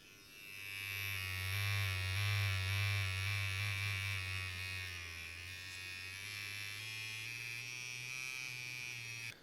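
A Mast Flip Pro tattoo machine runs with a steady, loud electric buzz that holds for the whole stretch, dipping slightly in strength partway through before cutting off at the end.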